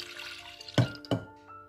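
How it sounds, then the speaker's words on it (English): Water added to dal in a small pressure cooker, heard as two short splashing pours over a quiet kitchen hum, close and fairly soft. "Now I am going to add the water."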